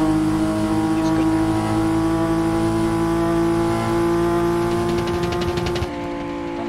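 A car drives at very high speed on a highway, its engine droning loud and steady from inside the cabin with wind and road noise, then shifting abruptly near the end as people talk over it.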